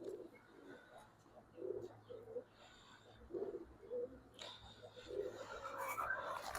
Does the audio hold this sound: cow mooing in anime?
no